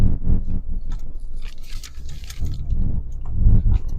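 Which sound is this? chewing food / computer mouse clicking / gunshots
chewing food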